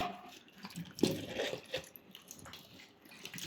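Star fruit dipped and swished in a bucket of water, a short run of soft splashes and sloshing at close range, brightest near the middle, with no talk over it.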